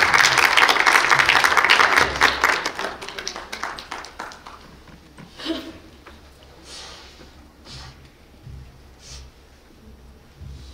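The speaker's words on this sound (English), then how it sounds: "I want you to clap for Leticia as Leticia comes to share." Loud, dense applause from an audience at a memorial service celebrating a woman's life, clapping hard for about two seconds before thinning into scattered claps and faint rustling.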